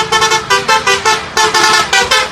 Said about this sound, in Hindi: तभी अचानक बस के हॉर्न की आवाज आती है।